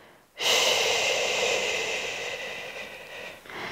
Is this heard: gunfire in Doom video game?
no